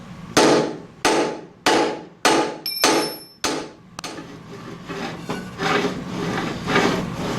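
A pottery wheel under repair runs rough, giving a series of loud, regular knocks about every half second that blur into a continuous rattling grind.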